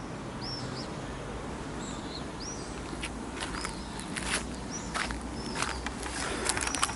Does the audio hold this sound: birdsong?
yes